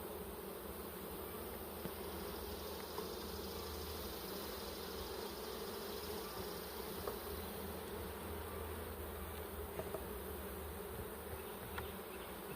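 Honey bees buzz around a hive frame lifted from a beehive, a constant close droning hum with occasional louder passes near the ear and no voices.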